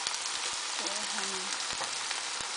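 Onions frying in a pan for spinach chana dal give off a steady, close hiss and sizzle with faint crackles throughout.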